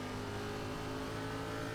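In the iRacing NASCAR Cup Series at Iowa Speedway, a race car runs alongside on the low side, its steady engine drone filling the short moment at a continuous, moderate level.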